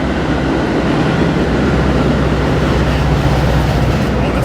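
A train rolls past in a sampled song, a loud, steady, dense rumble of rail and wagon noise that fills the whole stretch without letting up, with no voices over it.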